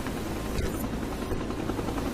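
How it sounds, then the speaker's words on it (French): A helicopter flies away at the end of the Resident Evil 4 video game, its steady rotor drone loud and continuous throughout, with no voices over it. "ça se termine par un hélicoptère qui s'en va, comme dans la plupart des Resident Evil"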